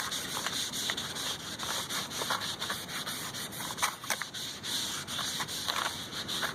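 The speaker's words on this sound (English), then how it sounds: "Just take some of this brake parts cleaner, clean it off real good." Brake parts cleaner is sprayed onto a vehicle part with an anti-rust coating, then wiped off during pre-winter maintenance: a steady hiss with repeated short scrubbing strokes, close up, with no talking.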